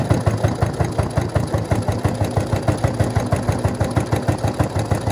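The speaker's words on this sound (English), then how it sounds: "let's see if I can run a few stitches here electrically with the motor" An electric sewing machine motor drives stitches through paracord, giving a steady, loud, rapid thumping rhythm of roughly four to five beats per second that runs evenly throughout.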